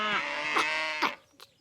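Cartoon cows give a long, low moo followed by a shorter one, close and fairly loud, trailing into a brief quiet gap with a soft sound at the end.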